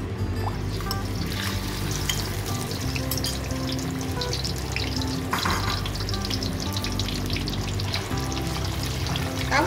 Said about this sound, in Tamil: எண்ணெயில் போட்டுருவோம்.